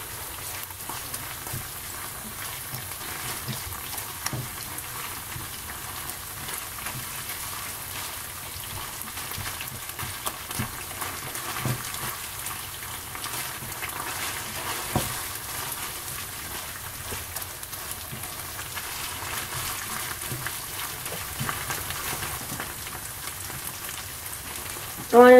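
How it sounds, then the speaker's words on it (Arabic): Tomato paste fries with onion in a pan, giving a soft, continuous crackling sizzle with scattered pops that stays fairly faint and even throughout, with no talking. "بس هذا المعجون احمسه كل زين ويا البصل"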